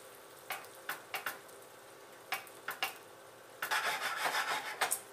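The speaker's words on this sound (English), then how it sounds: "let's grab this tomato sauce, dump it in here, mix everything up well" Tomato sauce being stirred into ground beef in a pan for fettuccine alla Bolognese, with quiet scraping stirs in separate strokes, then a denser burst of sizzling and scraping toward the end, faint and close.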